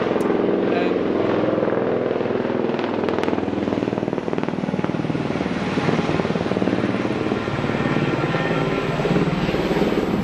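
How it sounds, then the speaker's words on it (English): A helicopter running close by at a tourist area near the Iguazu falls: a steady loud rotor and engine roar holds for the whole stretch, with faint voices beneath. "Those are the helicopter flights that you can book."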